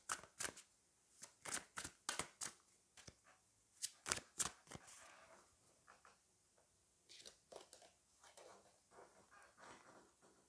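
Someone shuffles and draws from a Fallen Angels tarot-style deck, giving sharp, close paper snaps and riffles in irregular bursts with quieter rustling between them. No one speaks.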